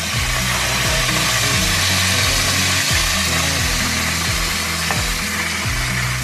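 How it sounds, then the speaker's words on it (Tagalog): Fish frying in hot oil in a home kitchen, a steady broadband sizzle that runs loud and continuous throughout, with a low rhythmic hum beneath it and no talking. "hahanguin na natin ang napakagandang pritong isda"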